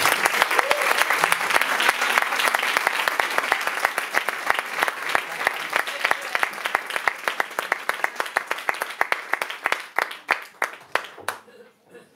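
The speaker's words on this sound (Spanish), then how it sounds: "Un aplauso para él." Sustained applause from a crowd at a tribute concert for a veteran bolero singer, dense steady clapping that thins out into scattered individual claps near the end.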